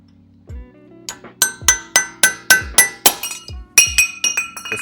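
A chisel tapped around the edge of an axle cap on a Gen 4 Toyota Tacoma TRD, a quick series of sharp metallic clinks with ringing tails, about a dozen hits in an uneven rhythm, close and loud.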